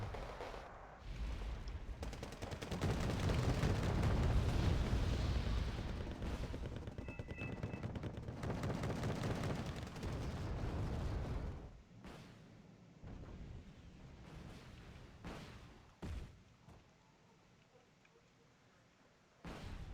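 Sustained barrage of artillery and heavy gunfire in the real-time strategy game Wargame: Red Dragon, dense rumbling booms building loud then thinning to scattered sharp blasts, with no voices.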